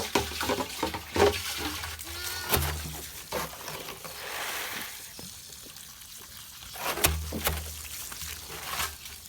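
Tap water running and splashing while something is rinsed in a sink, a steady close stream with occasional clunks and dribbles, no voices.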